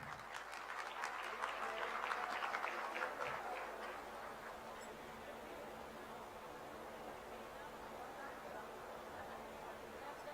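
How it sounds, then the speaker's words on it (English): An audience at a foundation day award ceremony claps for an academic honoree, a burst of applause over the first few seconds that fades into faint room murmur and hiss. "Please put a big round of applause."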